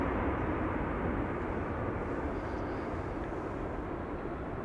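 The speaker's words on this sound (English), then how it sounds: "Turkish. Dreamliner. 7879. Flight 1951. Passing overhead the airport." A Turkish Airlines Boeing 787-9 Dreamliner passing overhead at Amsterdam Schiphol at roughly 7,000 feet, heard as a steady distant broadband jet roar, fairly faint and unbroken, with no one speaking.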